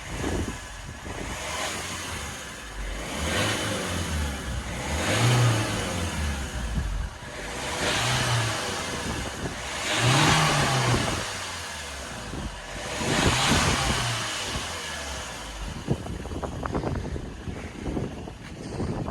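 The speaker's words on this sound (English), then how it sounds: "I'll try giving it some revs and hopefully we'll be alright." A Mini car engine revs up and falls back several times in slow surges, fairly close, with wind rumble across the microphone and no talking.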